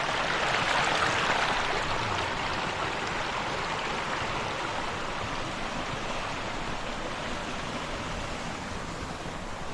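Steady broadband rush of clean flowing stream water at Puncak 2 in Sukamakmur, Bogor, a close, continuous wash with no voices.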